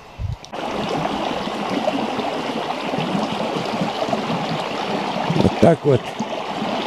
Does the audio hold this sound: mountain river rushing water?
yes